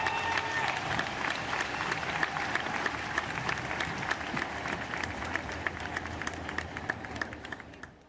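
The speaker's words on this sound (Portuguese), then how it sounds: "Uma salva de palmas, Rui Barrada!" A crowd applauds steadily, a dense wash of clapping that holds for several seconds before slowly thinning.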